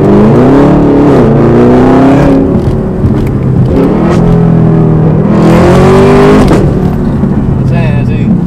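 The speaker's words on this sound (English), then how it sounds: "that should tell you how loud that car is" A Chevrolet Camaro ZL1 sports car roars loudly and close by, its engine note rising and falling through two strong revving surges, with voices partly audible underneath.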